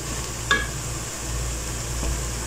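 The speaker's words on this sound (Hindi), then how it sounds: "इनको भी अच्छे से हिलाने के साथ" Chopped tomatoes frying in a pan while being stirred, a soft steady sizzle with a single brief scrape of the spoon against the pan.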